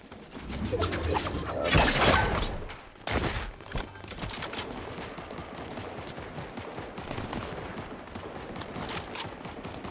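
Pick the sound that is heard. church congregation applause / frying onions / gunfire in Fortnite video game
gunfire in Fortnite video game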